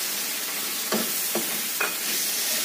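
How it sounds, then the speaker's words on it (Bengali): Spices frying in hot oil in a pan before marinated meat goes in, a steady close sizzle with three brief stirring scrapes spaced about half a second apart. "এই যেটা ভাজা ভাজা হয়ে গেছে, এবার এর মধ্যে এই যে ম্যারিনেট করে রেখে দিয়েছিলাম মাংসটা ওটা দিয়ে দেবো।"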